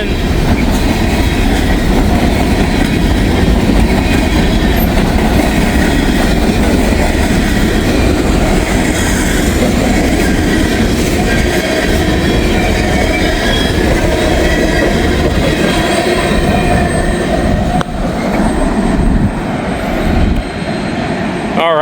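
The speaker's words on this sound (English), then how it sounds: "That was a super big train right there." A very long freight train rolls steadily past at close range, its wheels rumbling and clattering loudly and continuously along the rails, with occasional squealing and no break in the noise until it finally tails off at the end.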